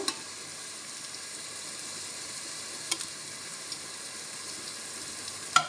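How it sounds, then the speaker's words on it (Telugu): Yogurt, garam masala and ginger paste for chicken biryani fry in a pan with a steady close sizzle and faint stirring clicks, with no talk. "ఇప్పుడు అలాగే 1 కప్పు పెరుగు వేసుకుంటున్నాను. అలాగే గరం మసాలా వేసుకుంటున్నాను."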